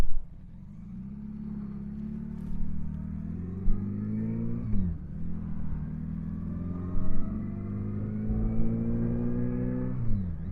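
A Honda GoldWing 1100 motorcycle on a test ride on the road, its engine droning steadily and rising in pitch as it accelerates through the gears, with brief dips at each shift, loud and close throughout.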